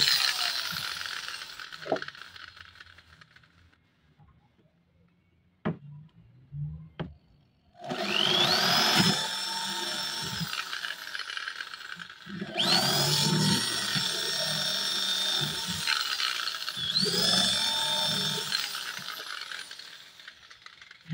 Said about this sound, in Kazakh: Дайындап қойдық, енді соны тесу керек.